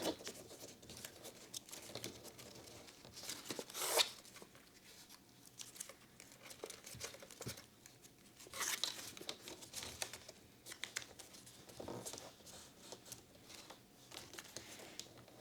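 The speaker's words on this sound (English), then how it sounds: "And let's fold both at the same time." Paper folded by hand for an origami drift car chassis model, with soft, close crinkling and creasing sounds in scattered bursts and sharper crisp folds at a few moments, otherwise quiet.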